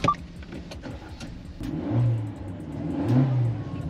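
A Suzuki Jimny 4x4's mid-pitched engine fires up nearby and revs in two rising swells, running steadily between them with no talk over it.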